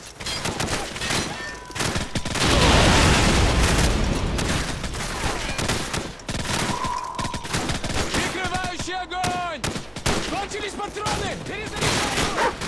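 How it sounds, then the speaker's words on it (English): Modern Warfare campaign combat with dense bursts of automatic gunfire and heavy booms, loud and continuous, while soldiers shout orders and call-outs over the shooting. "Give me some covering fire."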